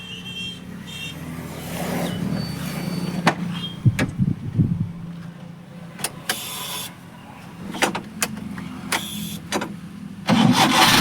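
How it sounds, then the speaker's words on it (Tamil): 1997 Maruti Omni carburettor van engine being started, with clicks and a door thunk before cranking bursts catch and the engine picks up, close and moderately loud. "ஆனால் வண்டியை ஸ்டார்ட் பண்ணி காட்டுறேன் பாருங்கள்"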